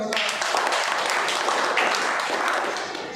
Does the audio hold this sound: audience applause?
yes